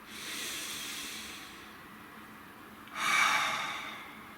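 A slow, deep breath drawn in and let out close to the microphone, a soft airy inhale followed by a stronger, brighter hiss of exhalation, with no talking.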